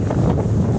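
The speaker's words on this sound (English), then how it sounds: "it's a pretty windy day" Wind gusting across a microphone at a lake boat ramp, a steady loud low rumble of buffeting with no other sounds standing out.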